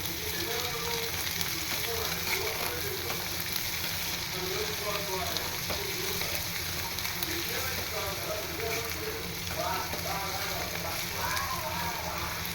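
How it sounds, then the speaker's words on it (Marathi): Vegetables with chopped spring onions stir-fry in a pan, giving a steady broadband sizzle throughout with soft scraping of the spatula, while a voice talks faintly underneath. "आता ही भाजी थोडी स्टर फ्राय करून घेते मी"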